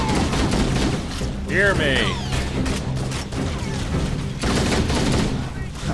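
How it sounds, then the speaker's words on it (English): Gunfire rattles in Halo: Combat Evolved as a steady dense fusillade runs throughout, with a player's voice talking briefly over the shooting. "He's shooting."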